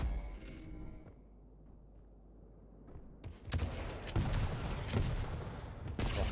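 Rapid weapon fire and explosive blasts from a Quake rocket launcher during a competitive match, with dense bursts of shots and impacts arriving close and loud after a quieter stretch.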